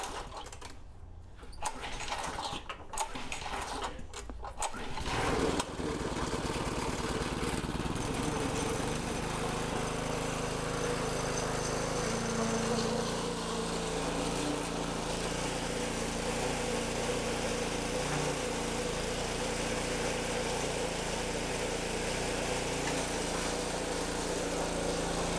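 A small engine with a recent new spark plug catches after a few brief pulls or clicks, then settles into a steady, loud, continuous running drone that carries on alone to the end.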